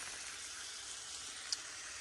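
Meat sizzles steadily as it sautés in a hot pan, a constant close hiss with one brief pop.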